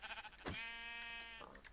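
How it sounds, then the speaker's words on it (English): A single sheep in a video game gives a drawn-out, wavering bleat lasting about a second, quiet and alone against a low, steady background hiss. "I hear another sheep."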